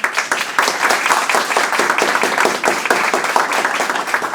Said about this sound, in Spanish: Ahí les pido un aplauso enorme para Mateo de Urquiza